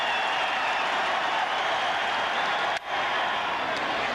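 A baseball crowd at Jacobs Field in Cleveland applauds a strikeout during the 1997 World Series, steady distant clapping and crowd noise sustained throughout, with a brief dip near the end.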